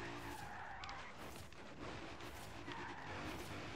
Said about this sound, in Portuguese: Olha a curva fazendo drift que eu fiz agora